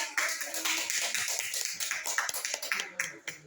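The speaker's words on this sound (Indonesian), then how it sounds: "Tepuk tangan dong buat Lulu." Audience clapping hands, a dense run of close, crisp claps from a small group that continues steadily throughout.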